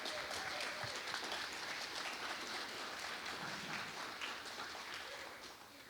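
Sustained applause from a crowd at a Veterans Day ceremony, steady clapping that holds at an even level and fades slightly toward the end.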